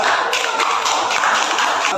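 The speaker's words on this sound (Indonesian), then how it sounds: "Berikan tepuk tangan untuk Saudara Yuda." A classroom bursts into steady applause for a student named Yuda, a dense, even patter of many hands clapping close by that holds for about two seconds without talk.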